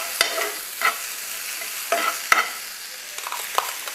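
Horse gram being stirred and sautéed in a pan for kollu chutney, with a spoon scraping in several distinct strokes over a faint steady sizzle, close and alone without talk.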